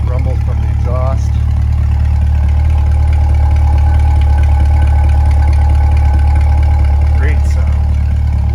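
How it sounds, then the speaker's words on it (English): A 2020 Chevrolet Corvette Stingray 2LT Z51 idles with a steady, deep exhaust rumble heard from behind the car, continuous and loud with a low droning tone throughout. "There it is from the back, nice rumble from the exhaust."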